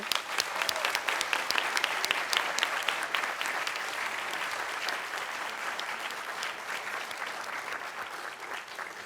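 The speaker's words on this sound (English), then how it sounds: "we can give a final round of applause for all of those people" A final round of audience applause at a community leadership awards ceremony, dense steady clapping from a crowd that holds for several seconds and slowly thins.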